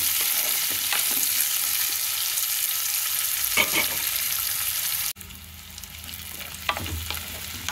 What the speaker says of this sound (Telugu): వీటిని గోల్డెన్ బ్రౌన్ కలర్ వచ్చే వరకు వేయించుకోవాలి.